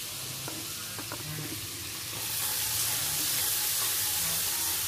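Spice paste frying and being stirred in an unwashed wok for a goose dish, a steady sizzle with a few scraping stir strokes early on. The sizzle swells louder halfway through and stays close and continuous.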